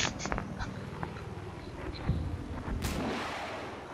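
Several gunshot bursts in Battlefield 4 crack out over a dull background rumble, fairly faint and distant, with no talking.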